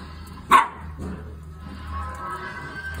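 In a home where dogs react to barking from a TV, a dog gives one short, loud bark, followed by a couple of fainter yips and then a quiet, humming room.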